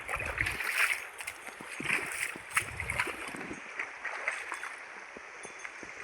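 A river flows steadily with scattered splashes and gurgles, fairly close, with no voices over it.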